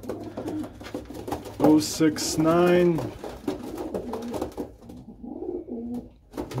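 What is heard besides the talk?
breeding bird cooing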